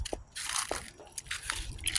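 Snips and crunchy cuts through a plant stem, a few sharp bursts spaced unevenly, close up and fairly quiet.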